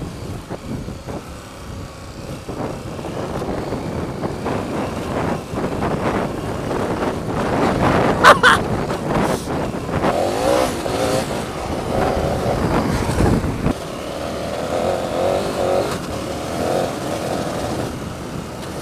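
A KTM 1290 Adventure motorcycle rides off-road at a rally day, its engine a steady, close drone through the whole stretch, with heavy wind buffeting the microphone and a few louder surges and rough bumps along the way.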